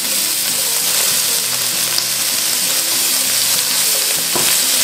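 Meat sizzles and fries loudly in a hot stainless steel pan for yakisoba, a steady bright crackle filling the whole stretch with faint stirring clatter, no voices.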